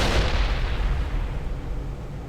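A grenade explodes in the Mass Effect video game, one loud, close, broad blast that rumbles and decays over a couple of seconds with no talk over it.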